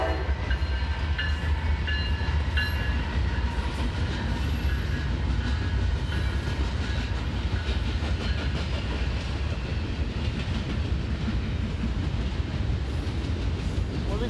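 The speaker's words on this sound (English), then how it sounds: "here comes NS in Berea" A Norfolk Southern intermodal freight train passes in Berea, a loud continuous rumble with rail clatter and a faint horn, heard up close throughout.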